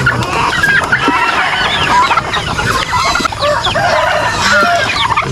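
Flock of chickens fed layer feed, dense overlapping clucks and squawks close by, loud and continuous, with occasional pecking noise beneath.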